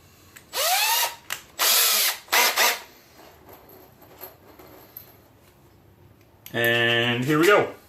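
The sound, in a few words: power drill with driver bit driving anchor into wall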